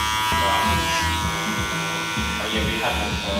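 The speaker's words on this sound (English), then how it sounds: "Now I'm going to blend this in now, using my clipper comb." Electric hair clippers buzz steadily and close while blending hair on the sides of a medium-length cut, the drone shifting in pitch as they work through the hair.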